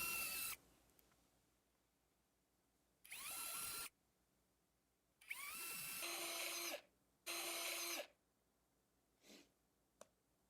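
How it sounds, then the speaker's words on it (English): A power drill whines in several separate bursts of a second or two each, drilling screw holes into a guitar body, close and loud, with quiet pauses between and a couple of small clicks. "I need to drill a couple holes in the body for the screws"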